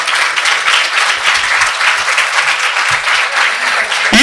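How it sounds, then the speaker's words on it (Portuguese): An audience at an academic symposium applauds for Célia, a loud, dense, sustained burst of clapping that stays steady throughout, close and filling the room. "Uma salva de palmas, gente, para a Célia!"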